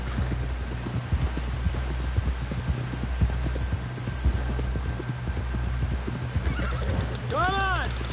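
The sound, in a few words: horse galloping in video game Red Dead Redemption 2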